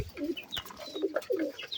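Cotton pigeons, including a male, coo in soft, rolling bursts nearby, faint and repeated, with a few light chirps and no talking.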